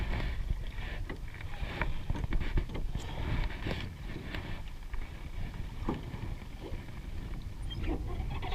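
Wind blowing across a small rowboat out on the water while fishing: a constant, rough rushing and buffeting close to the microphone, with scattered knocks and splashes and no voices.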